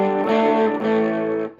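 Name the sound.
1960 Gibson GA-40 tube amp breaking up, guitar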